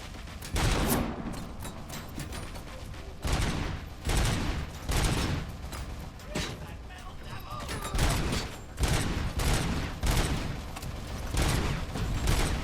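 Turret gunfire in the Robocop Rogue City video game rattles in repeated loud bursts of rapid shots throughout, with brief gaps between volleys and a voice speaking over parts of it.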